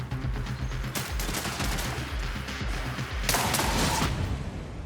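Gunfire in the sci-fi shooter game Marathon: a steady rattling burst of rapid shots with several sharper cracks and a louder blast near the end, close and dense, with no voices.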